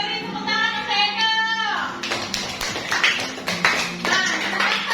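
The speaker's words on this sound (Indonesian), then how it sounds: "beri tepuk tangan untuk Edo" Classroom of students clapping for a classmate named Edo, a burst of lively, uneven hand claps starting after a high whistling or tonal sound and continuing steadily to the end, fairly close and loud.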